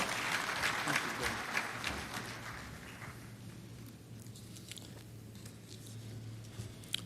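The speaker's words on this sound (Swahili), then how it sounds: "Tupigie chairman wetu makofi tafadhali." Applause for the chairman at a Kenya health summit, a dense crowd clapping loudly at first and then thinning to a steadier, softer patter of claps through the rest of the clip.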